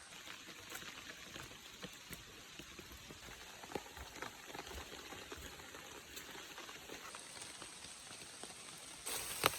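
Steady rain falling on a hiking trail, a dense, even patter of drops through the whole stretch with no voices, brightening slightly near the end.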